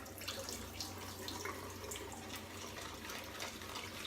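Water from a tap runs continuously into a sink while a shaving bowl is rinsed, a faint, steady splashing stream with small clinks and drips.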